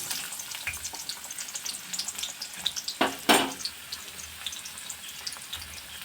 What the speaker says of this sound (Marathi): जिरं मोहरी छान तड तडली की मग यामध्ये एक बारीक चिरलेला कांदा टाकणार आहोत